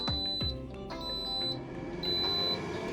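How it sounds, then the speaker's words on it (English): An air fryer gives a high electronic beep three times at a steady interval after preheating, each tone held about half a second, over a low background hum and a couple of clunks. "So the air fryer is now beeping after the preheat of 5 minutes."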